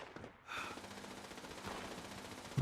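Automated turret firing in the post-apocalyptic game Fallout 76, a fairly faint, rapid run of gunfire that carries on steadily after a brief lull, heard alone without speech.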